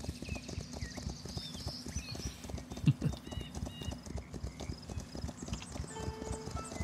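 A messenger's horse gallops along a route in the city-building game Foundation, its rapid rhythmic hoofbeats clopping steadily and close, with a brief whinny-like accent midway and faint ambient game tones behind.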